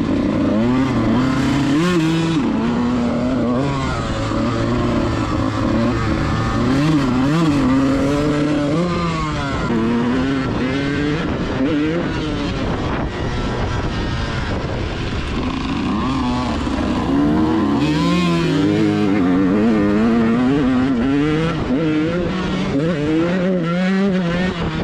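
A dirt bike engine on the first ride of the season, revving and changing pitch continuously as the rider accelerates and shifts, loud and close throughout with no talk.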